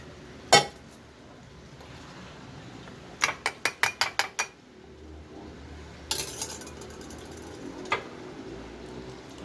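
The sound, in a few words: straining green tea with clove and cinnamon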